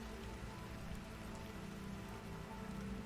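Steady rain falls in a scene from the Moon Knight series, a soft, continuous patter that stays quiet and even throughout, with no voices.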